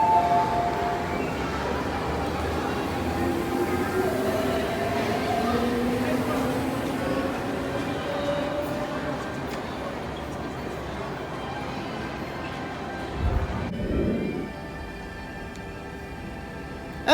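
An MTR train at Sunny Bay Station hums along with gliding, rising and falling motor tones over a steady rumble, fading out near the end before a brief thump.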